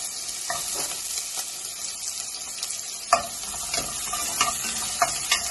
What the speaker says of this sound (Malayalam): ഞാനൊരു പാത്രത്തിൽ കുറച്ച് ഓയിൽ ഒഴിച്ച് കൊടുത്തിട്ടുണ്ട്. ചെറിയ ഉള്ളിയാണ്.